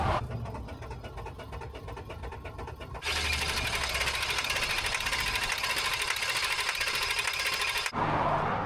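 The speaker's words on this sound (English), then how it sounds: "Keep cranking it." Motorhome engine cranking after running out of fuel, a steady loud mechanical churn that grows harsher midway and runs continuously for several seconds before briefly cutting out near the end.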